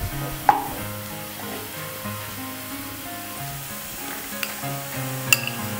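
Carrots dropped into a pan of frying onions, giving a steady close sizzle with a couple of sharp clinks of a utensil against the pan and soft stirring scrapes.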